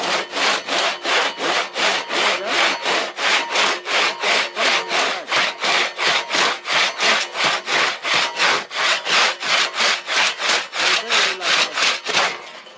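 A chainsaw cuts through wood in a snowy winter forest, producing a steady run of rhythmic, rasping strokes, loud and close, with no voices.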